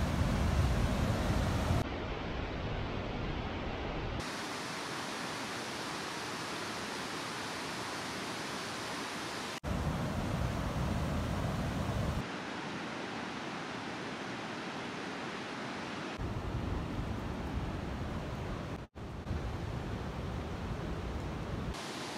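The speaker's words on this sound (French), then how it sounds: "Alors là, on voit une cascade" Broadband roar of a waterfall in the Pyrenees, steady and loud, shifting in tone between closer and more distant positions with brief cuts along the way.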